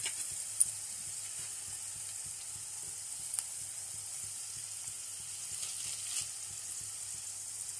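Dried red chillies frying in oil for pulihora, a faint, even sizzle with small scattered pops and crackles.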